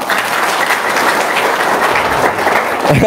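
Applause from a seminar audience of traders and business people, steady and dense throughout, close and fairly loud with no clear talk over it.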